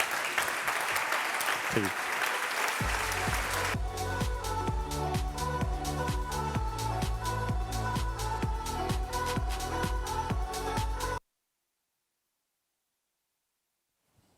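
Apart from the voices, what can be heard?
audience applauding a speaker welcomed on stage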